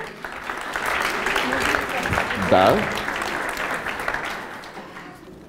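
The audience at the closing of the QA: Challenge Accepted 4.0 conference applauds in a full, continuous round, swelling briefly near the middle while a voice speaks over it.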